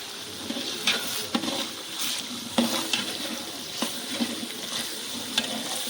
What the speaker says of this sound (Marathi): आता ह्यो सगळा खडा मसाला घेतला थोडा थोडा, तो टाकूया तेलात भाजायला